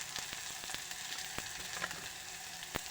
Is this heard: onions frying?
yes